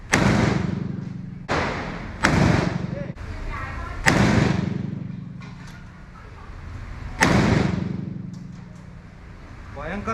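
A large, powerful military gun fires about five heavy booming shots at irregular intervals outdoors, each with a long rumbling decay.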